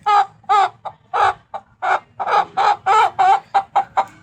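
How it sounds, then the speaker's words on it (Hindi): A five-month-old Aseel chick calls in a rapid run of about a dozen short, loud, close chirping clucks, each a bright pulsed burst with brief gaps, steady and alone over a faint low background rumble. "ऐसा लग रहा है मुर्गे की आवाज़ है"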